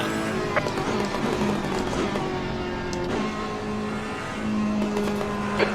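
A GT3 race car engine at Monza in a racing game drones steadily throughout, with a continuous tonal whine shifting in pitch as it revs and changes gear, loud and close.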